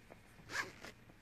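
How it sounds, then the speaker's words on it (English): A double-ended zip on a winter sleeping bag is drawn in one quick, close stroke, a short rasping burst that peaks and fades within about a second, alone with no talk. "Also a double-ended zip,"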